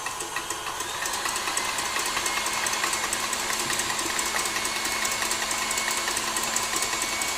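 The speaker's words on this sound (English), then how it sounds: "I just want to whisk this so it's nice and double cream" An electric whisk beats double cream in a bowl with a steady, buzzing motor whine and a fast rattling texture, loud and close, running continuously with no voices.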